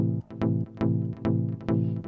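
A bright synth lead plays a repeating note pattern, one note over a minor chord, with sharp plucky attacks over a sustained harmonic bed, steady and loud with no voices.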